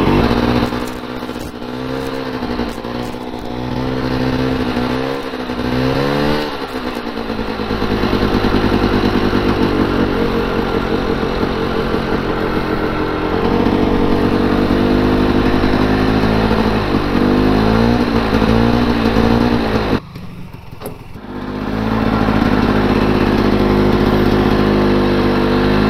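A Polaris Scrambler 400 ATV engine, fuel-starved with a damaged throttle cable, idles roughly and revs up in surging bursts, loud and close, with a brief dip in the engine note partway through.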